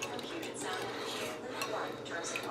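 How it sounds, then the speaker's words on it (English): A whisk beats a mixture in a bowl, producing brief, quiet clinks and scrapes against the bowl's side over a few seconds, with no talking. "Take our whisk and whisk it up."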